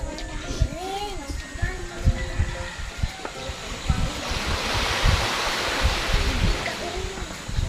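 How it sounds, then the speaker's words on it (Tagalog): Sea waves wash against the seashore in a steady rolling surge with gusts of wind across the microphone, while people talk over it throughout. "Andito po kami sa tabing dagat."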